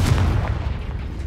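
A fiery spell explosion in the Hogwarts Legacy video game, a deep booming blast with a rumbling low tail that fades over about a second.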